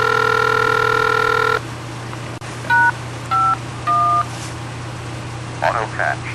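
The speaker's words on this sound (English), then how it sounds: "that series of beeps you hear is masking the actual tones that's used to dial the repeater" A ham radio repeater autopatch sends a long steady tone, then a series of short DTMF dialing beeps follows, spaced apart with brief pauses, loud and clear over a constant low hum.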